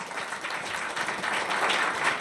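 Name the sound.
audience applause for speaker coming on stage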